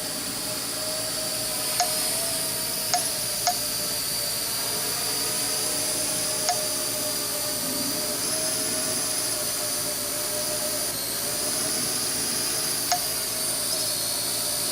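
A Parrot AR 2.0 drone hovering just after takeoff gives off a steady, fairly close electric whine with a high buzzing hum, constant throughout, with a few faint clicks.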